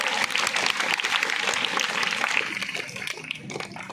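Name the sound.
applause in stage drama classroom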